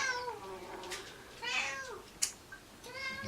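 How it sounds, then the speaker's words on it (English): A domestic cat meows several times in a row, each call close and clear with short pauses between them. The sound comes from indoors with no one talking over it. "you can hear my cat, she's wanting a bit of love"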